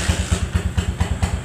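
A SINSK 150 motorcycle engine runs close by just after a kick start, idling with a steady, rapid thumping beat and a light mechanical clatter.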